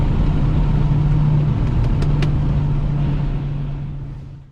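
Audi UrS6 in a first-gear roll with no-lift shifting, its engine note strong and steady close by, a few brief sharp pops partway through, then the sound fading away at the end.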